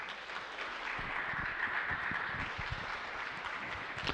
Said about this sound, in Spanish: Una vez más vamos a dar, por favor, fuertes aplausos.